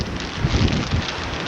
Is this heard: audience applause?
no